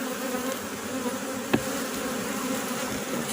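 Angry honey bees buzzing loudly and steadily at an opened hive in Jamaica, a dense continuous drone close to the listener with no voices.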